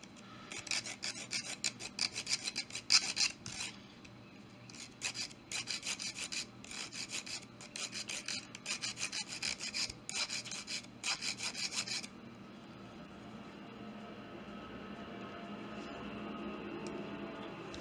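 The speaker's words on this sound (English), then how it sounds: "I have to use just a regular saw blade." A hand saw blade rasps back and forth in quick, even strokes, cutting through a Hot Wheels Ford Mustang toy car, close and alone, then stops, leaving quiet room noise.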